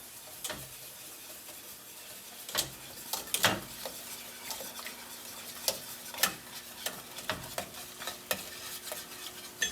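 Spatula stirring pesto pasta sauce in a hot pan as rice vinegar is slowly poured in, with a steady low sizzle under scattered sharp scraping and tapping strokes, close and alone without talk.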